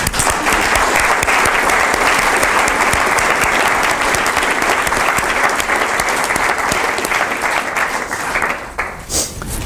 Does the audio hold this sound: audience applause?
yes